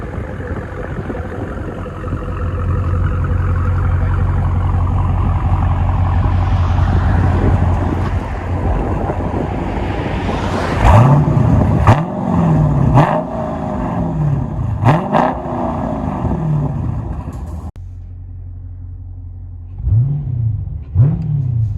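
A 2017 Dodge Challenger 6.4L Scat Pack with dual exhaust and Dynomax Bullet mufflers idles with a deep, loud rumble, then revs repeatedly in rising and falling bursts before settling back to idle and revving again.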